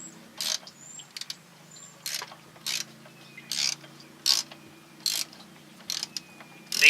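Ratcheting clicks from a wrench tightening a part on a car engine while it is prepped for removal, coming in about nine short bursts of rapid clicking with brief pauses between.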